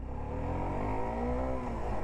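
Suzuki Gixxer SF 250 motorcycle running on E85 ethanol fuel drones steadily up close as its engine revs and pulls away, a continuous throaty hum rising gently in pitch with no talk over it.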